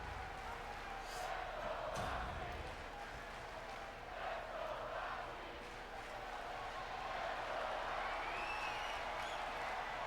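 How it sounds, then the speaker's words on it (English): A dense arena crowd at a wrestling match in the WWE 2K25 video game, chanting for Roxy in steady waves with a roaring background. No speech is heard. "There's a lot of Let's Go Roxy chants in the crowd tonight."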